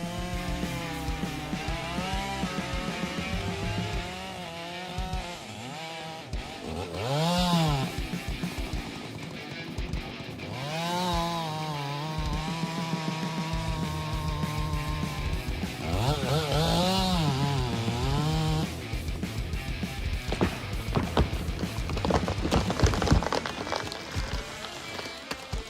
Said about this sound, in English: the MS-881 is capable of cutting large trees quickly